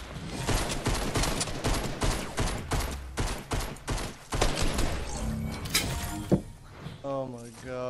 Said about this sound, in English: Dude, I'm shooting right on this guy.